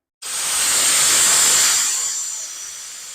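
Compressed air blasts out as a garage air compressor's tank is drained, a loud steady hiss that starts abruptly, holds strong, then slowly eases off.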